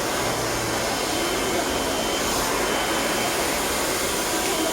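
A hair dryer blows steadily at a beauty salon in Davao City, a loud continuous rushing whoosh that fills the whole stretch without pause.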